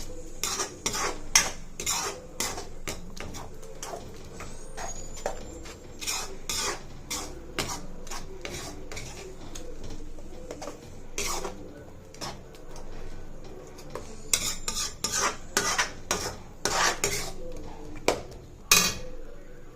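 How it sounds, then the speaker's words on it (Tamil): Ground coconut paste gets stirred into fried onions in a pan for thakkali kurma, with a spoon clattering and scraping against the metal in irregular bursts over a faint sizzle. "இப்போ இதை நல்லா மிக்ஸ் பண்ணி விட்ருங்க."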